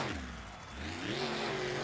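A monster truck on BKT tyres revs its engine during a freestyle tryout run in Paxton, Illinois, the roar dipping and then climbing steadily in pitch as the throttle opens, heard at a distance over crowd and arena noise.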